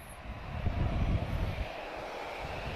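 A TAP airliner, an Embraer, A319 or A320, arriving at an airport, its broad jet engine roar rising to a peak in the middle and then holding steady, heard at a moderate distance with no talk.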